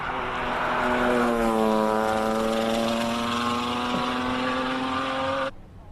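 A Noble M400 with a 3-litre six-cylinder Ford engine at a hillclimb, one loud sustained engine note rising steadily as it passes close by, cutting off sharply at the end.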